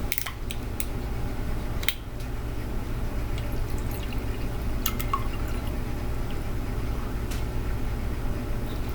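Distilled water is poured into a bottle as a steady trickling fill, with a few sharper drips and splashes over a constant close liquid wash and no talking.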